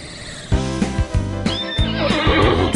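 A horse neighs loudly and repeatedly, with rising and falling whinnies, over a rhythmic clip-clop of hooves, all close and clear, with no speech.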